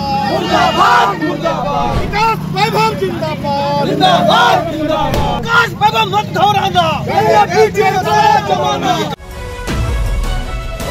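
A street protest crowd in Begusarai shouts slogans against Chief Minister Nitish Kumar in support of IPS officer Vikas Vaibhav, a loud dense roar of many voices chanting and shouting together with traffic noise mixed in.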